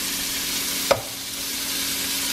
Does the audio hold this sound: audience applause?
no